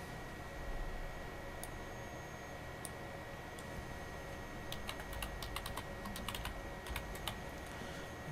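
Light clicks of typing a new file name on a computer keyboard come in quick, uneven clusters over a low, steady background hum.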